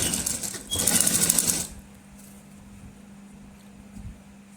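A sewing machine stitches buckram onto a salwar cuff, running in a loud, fast burst for under two seconds and then stopping, with only a quiet hum left afterward.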